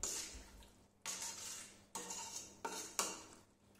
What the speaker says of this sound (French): Une fois fait, vous remuez bien tout ça.